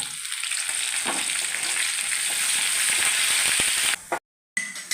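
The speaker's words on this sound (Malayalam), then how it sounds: "നമുക്ക് അതിനകത്തോട്ട് കരിയാപ്പില ഇടാം നമുക്ക് അല്പം കരിയാപ്പില ഇടാം" Curry leaves frying in hot oil for a mango pickle tempering, giving a loud, steady crackling sizzle close by. It carries on for about four seconds and then cuts out abruptly.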